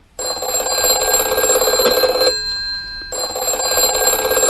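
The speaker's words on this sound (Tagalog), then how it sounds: "Nagre-ring yung cellphone" A cellphone rings inside a Minecraft game, a loud, bright electronic trill sounding for about two seconds, breaking off briefly, then resuming at the same level.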